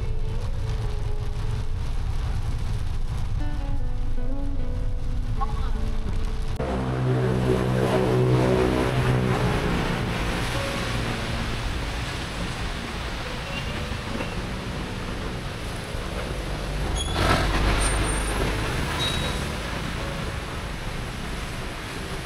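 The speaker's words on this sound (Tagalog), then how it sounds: "na stuck up tayo dito sa traffic." Steady road traffic rumbles around a vehicle stuck in a jam, a broad low wash with passing engines and a brief louder surge near the end, no voices.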